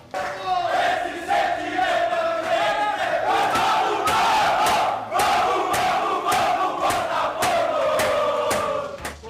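Botafogo fans celebrate a 2-0 win in the locker room, a loud crowd shouting and chanting together in a dense, continuous roar with rhythmic swells.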